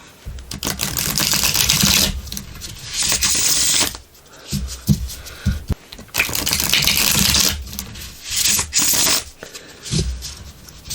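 Bursts of rapid tarot card riffling, several loud shuffles separated by brief pauses and softer handling sounds, close up with no talking.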